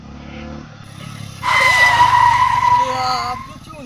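A motorbike arrives and skids with a loud, sharp tyre squeal that bursts in partway through and holds for about two seconds before fading, with voices and background noise underneath.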